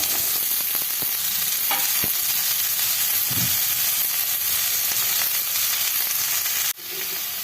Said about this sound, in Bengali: এখন আমি দিয়ে দিচ্ছি লাউ